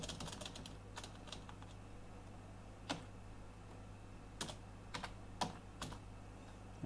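Keys tapped on a computer keyboard while typing a short line of text, a cluster of quick clicks at the start followed by scattered, sharper individual keystrokes over a steady low background hum.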